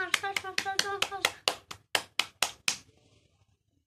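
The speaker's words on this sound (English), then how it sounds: "clap clap clap your hand, clap clap clap your hand, slowly slowly, fast fast fast fast fast" Hands clap during a children's online exercise class: about a dozen sharp claps in a quick, even run, then spacing out toward the end, with a voice chanting along before silence.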